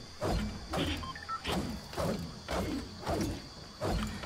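Repeated swings of the LEG-209 pickaxe in Fortnite: steady, evenly spaced mechanical clanks and rattling thuds, about seven or eight in a row, close and prominent, with no speech over them.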